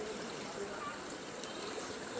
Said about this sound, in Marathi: चर म्हणजे पाणी जे येतं नदीचं उरलेलं ते तेवढं साईडने जातं.